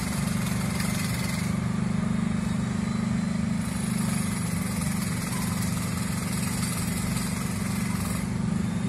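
A heavy bored pile drilling rig working at a flyover construction site near the Padalarang toll gate, a steady, loud diesel engine drone with constant broadband rumble and no talk.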